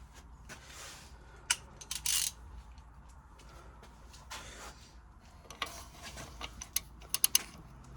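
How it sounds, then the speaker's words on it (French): A hand ratchet clicks while tightening on an Audi A6 engine, short bursts of close metallic ratcheting scattered irregularly through a quiet background, with no talking. "Avec aussi un cliquet."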